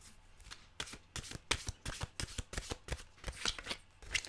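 A deck of oracle-style mantra cards is shuffled by hand in a steady run of crisp, close riffling flicks, each burst sharp and quick, with no talk over it.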